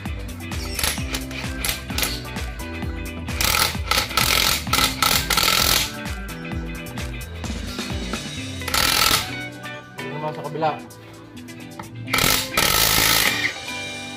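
Mail Tank cordless brushless impact wrench running in loud rattling bursts of rapid hammering, with short pauses between triggers, close and harsh; a brief spoken phrase occurs.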